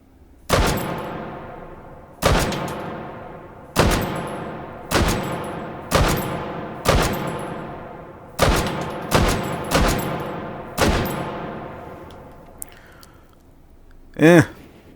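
Russian sniper rifle fired through a scope in Hot Dogs, Horseshoes and Hand Grenades: about eleven loud, sharp shots spaced a second or so apart, each with a ringing decay, followed by a brief metallic clatter at the end.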